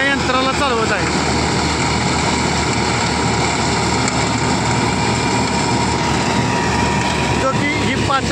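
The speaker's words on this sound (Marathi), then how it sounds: "मॅसी फर्ग्युसनचा जो 9550 HP कॅटेगरीचा जो ट्रॅक्टर आहे तो आपण 65 फुटी या यंत्राला चालवत आहे" Massey Ferguson 9500 tractor engine running a 65-foot farm implement: a dense, steady drone with a high whine layered over it continues unbroken and loud throughout.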